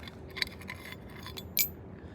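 Two small metal keys, one resembling a house key, jangling in two brief bright clinks, quiet and close against a low hum.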